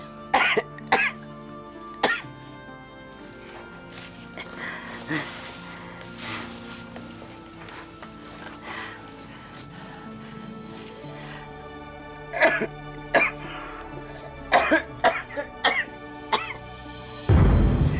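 A man coughing in a drama scene, with a series of harsh, close coughs, some single and some in quick pairs, over a steady humming background.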